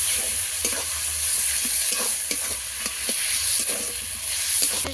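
Ground cumin and pepper paste with spices sautéing in a pan for a chicken skin curry, a bright continuous sizzle with repeated soft stirring scrapes, close and fairly loud, no voices.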